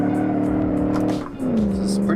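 A car engine pulls hard and steadily in a video game race on Grand Valley Speedway, a heavy 1956 Gasmea Caliber GT premium car, its drone rising, dipping briefly around a shift, then climbing again, with speech over it.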